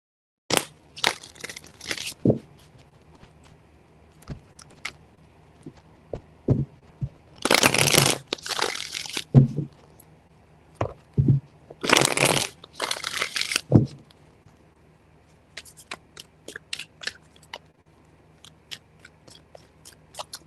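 Tarot cards being shuffled by hand in a room: bursts of dense riffling and flapping card noise separated by scattered taps, soft knocks and pauses, close to the ear with no talking.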